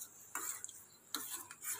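A spoon stirs a simmering herbal kadha decoction, with freshly pounded cinnamon, in a pot on the stove: two short bursts of clinking scrapes against the metal, fairly faint and close, separated by quiet pauses.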